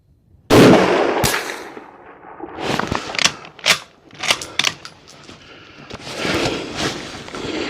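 A Mosin-Nagant rifle fires at steel targets 500 meters away: one sharp, loud report, then a second crack, with faint distant metallic impacts and rustling afterward, and no talking.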